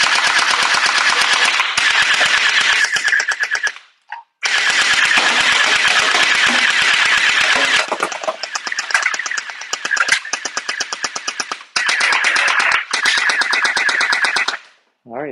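A PIECIS Scorpion submachine gel ball blaster fitted with a drum fires in loud, rapid full-auto bursts with a high whirring buzz, several long strings of shots broken by short pauses.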